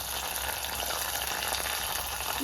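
A Kerala-style tempering of hot oil is poured into a tomato and curd curry, giving a dense, continuous close sizzle that holds steady for a couple of seconds.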